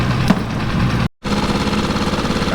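A new boat outboard motor runs steadily during its break-in, a close, continuous mid-pitched engine drone with a brief dropout partway through, no talk over it.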